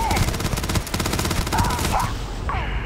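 Rapid automatic gunfire from a sci-fi shooter, Starfield, rattles on densely for nearly three seconds, a continuous loud burst with a few sharper whooshing effects near the end.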